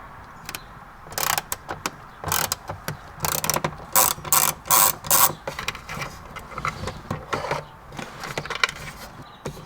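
A ratchet clicks in bursts of quick pawl ticks while backing out a T25 screw in the sunglasses holder of a 2011 Audi S5, close and crisp with short pauses between strokes.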